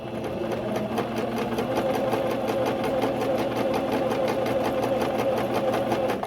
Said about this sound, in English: this is the Singer fashion sewing machine